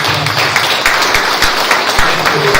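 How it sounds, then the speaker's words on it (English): Audience applause in a seminar hall at a theological college golden jubilee event, a loud, steady wash of many hands clapping with a few sharper single claps standing out, plus a faint low murmur beneath. "So let's give Brother Juan a round of applause."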